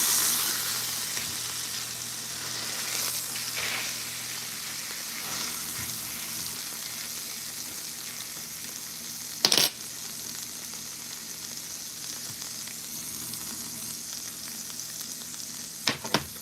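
Steak frying in a pan after being flipped, a steady close hiss and crackle of sizzling fat that runs the whole time, with a couple of brief sharp clinks near the middle and end.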